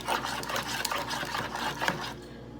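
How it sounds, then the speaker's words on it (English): Steady scraping and swishing of a spoon stirring oatmeal and water in a bowl, continuous and close, stopping near the end. "I'm going to stir this up a little bit."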